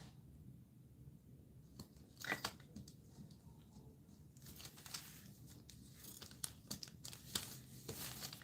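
A blade slices through small polymer clay pieces, making quiet, intermittent crisp cutting and tapping sounds, several short bursts close up over a faint room background.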